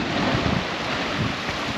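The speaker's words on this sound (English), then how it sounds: "The waves are just popping up through here." Ocean waves on the Yorke Peninsula coast surge up through a small rock cave beneath the ground, a steady loud wash of rushing water and spray with wind buffeting the microphone, no voices.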